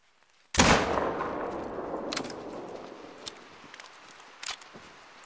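Single hunting rifle shot fired at an animal in theHunter: Call of the Wild, a sharp, loud crack that fades into a long rumbling echo, followed by a few faint clicks and rustles.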